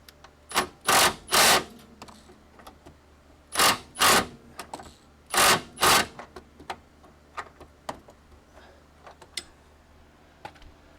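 Impact wrench in a home garage firing in three pairs of loud, sharp hammering bursts, each a second or less, with faint clicks and rattles between them.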